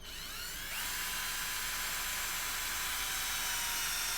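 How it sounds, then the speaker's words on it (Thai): A cheap cordless drill boring into hardwood: the motor winds up after a short start, then holds a loud, steady high-pitched whine with hiss and grinding as the bit bites into the wood. It is close and has no talk over it. "เดี๋ยวเราลองอมาลองเจาะกันเลยนะครับ"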